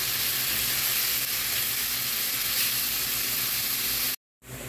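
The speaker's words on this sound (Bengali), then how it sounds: "লবণটা দিয়ে আমি পেঁয়াজটা ভালো করে ভেজে নেব।" Chopped onions frying with salt in hot oil in a frying pan, a steady loud sizzle and hiss running without a break for about four seconds, then cutting out briefly before returning.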